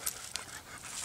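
Two tired dogs panting softly and quickly nearby after a hike, short breathy puffs in a steady rhythm with a faint whimper.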